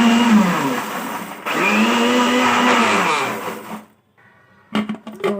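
An electric grinder whirs loudly while blending mint and coriander into masala, running in two long bursts with a brief pause between, then stopping, followed by a few short clatters.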